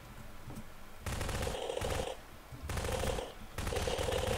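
Sustained automatic weapon fire in Garry's Mod Prop Hunt, coming in three loud bursts separated by short pauses, with no voices over it.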